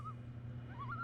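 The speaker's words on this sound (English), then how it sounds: "hear the loons in the background" Loons call near a lake on a New Brunswick camping trip, a wavering tremolo cry rising and falling softly in the distance over a low steady hum, with no talking.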